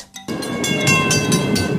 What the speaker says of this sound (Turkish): Tramvay tren gibi rayda gider.